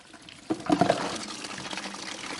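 Water gushes out of the holding tanks of a brand-new travel trailer, draining into a battery box. It starts abruptly with a splashing surge, then settles into a steady, moderately loud flow.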